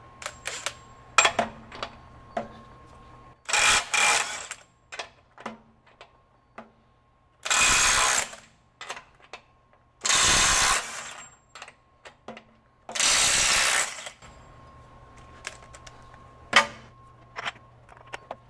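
A RIDGID 18V right angle impact wrench running in reverse, heard as a few loud bursts of hammering at close range, separated by quiet gaps filled with sharp clicks and ticks.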